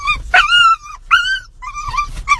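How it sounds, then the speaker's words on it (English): An excited dog lets out a series of loud, close yips and whimpering barks in three or four bursts, with no talking over them. "My dog, every time he sees my boyfriend."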